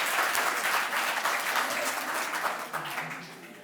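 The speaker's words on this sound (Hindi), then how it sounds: "ताली बजा दो इस बात पे जोर।" Audience applause at a National Education Day and Subharti Day event at Subharti University, a dense, steady round of clapping from a large crowd that holds loud throughout and tapers slightly at the end.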